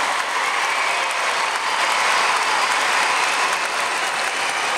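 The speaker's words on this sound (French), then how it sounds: "Et je crois qu'on peut vraiment les applaudir." Loud, dense applause from an audience at a mountain and science film gathering, honoring documentary makers; continuous close clapping with no pauses.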